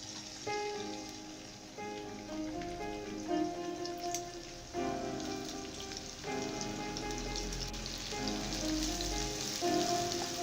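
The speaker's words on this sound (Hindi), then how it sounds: "ऑयल को थोड़ा सा गर्म करने के बाद इसके अंदर कटी हुई एक मीडियम साइज की प्याज डाल देंगे।" Chopped medium-sized onion sizzles in hot oil in a pan, a dense steady crackle and hiss that sounds almost like rain, with faint clinks and background tones throughout.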